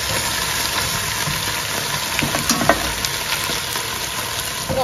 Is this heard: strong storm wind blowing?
no